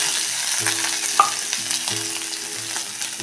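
Steady sizzling of cumin, asafoetida and crushed green chili sautéing in hot oil, with light stirring scrapes and a soft sputter now and then, close and continuous without any talk.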